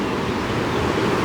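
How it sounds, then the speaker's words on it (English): The Big Thompson River in Big Thompson Canyon near Estes Park gushes at near full June flow, a loud, broad, continuous rush of water heard close up with no voices. "the big Thompson River, and it's, boy, this is really gushing"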